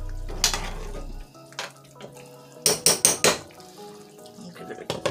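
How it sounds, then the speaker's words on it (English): Rice stirred in a cooking pot with a metal utensil, a cluster of bright clinks and scrapes against the pot rim in quick succession, close and clear over a low hum. "I'll give it a little stir."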